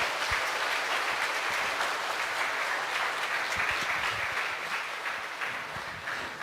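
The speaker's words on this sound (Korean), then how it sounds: "박소리가 너무 생각보다 작은 것 같아서 섭섭한데요" Sustained applause from a concert audience at a charity music event, steady dense clapping throughout that tapers slightly near the end.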